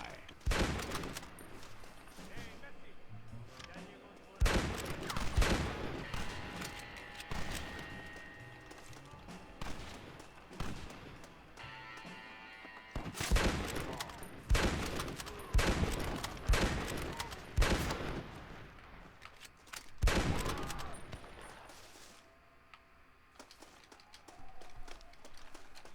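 A bolt-action rifle fires in Red Dead Redemption 2, sharp loud shots in scattered clusters, mixed with other gunfire and game noise in a busy firefight.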